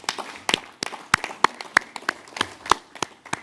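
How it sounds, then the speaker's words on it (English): Scattered applause from a small audience at an African climate summit, sparse individual claps with uneven rhythm, fairly faint and without voices. "Alok, you deserve a round of applause because it was in Glasgow"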